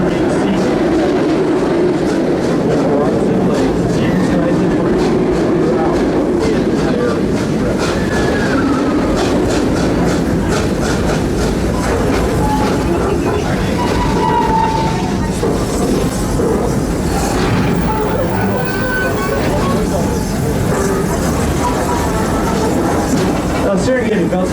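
A Busch Gardens steam train rolls through an open animal park with a steady rumble and clatter of wheels on rails, heard from on board under a continuous wash of passenger chatter and a public-address voice.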